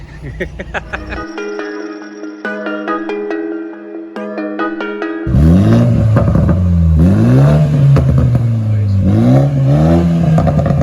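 2020 Toyota Supra with its muffler deleted, a few seconds of rhythmic tones before the engine barks into a loud, close revving sequence, pitch climbing and falling repeatedly with a raspy exhaust.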